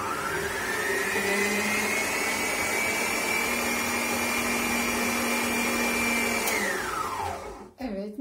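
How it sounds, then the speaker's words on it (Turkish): An electric mixer whips cream with vanilla for homemade whipped cream, running as a steady, loud motor whine for several seconds. It then winds down and stops, leaving a few clattering handling sounds. "Evet, mikserimi durdurdum."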